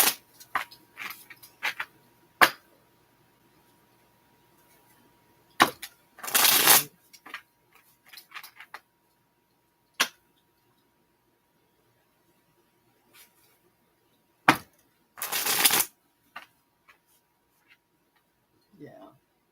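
Two loud riffle shuffles of a card deck stand out between long quiet stretches, with scattered taps and handling noises around them.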